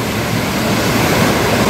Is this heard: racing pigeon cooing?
no